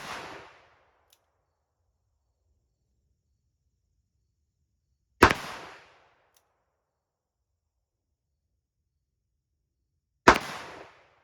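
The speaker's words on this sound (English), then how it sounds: "First, single action Colt Python." Colt Python revolver firing at an outdoor range, three single sharp loud cracks spaced about five seconds apart, each with a short decaying echo, silence between.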